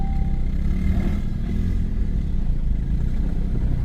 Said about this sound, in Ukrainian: От вам і тест на тягу грузового повноприводного квадроцикла